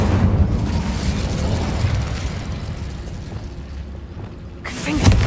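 Incendio fire spell cast in the video game Hogwarts Legacy, a sustained roaring burst of flame with low booming rumble, swelling again sharply near the end.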